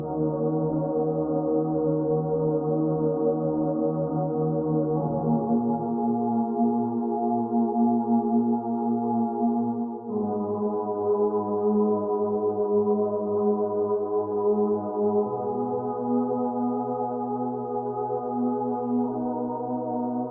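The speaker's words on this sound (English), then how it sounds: "Then I add other pad from the Product 5 from Arturia." Arturia synth pad with chorus, sustained lush chords shifting every few seconds, steady and continuous with no voices.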